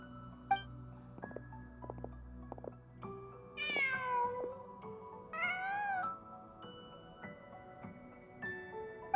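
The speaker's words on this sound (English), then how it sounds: "Huh. Just a cat." A cat in Genshin Impact meows twice, clear and drawn out, over soft music and ambient game sounds with no talk.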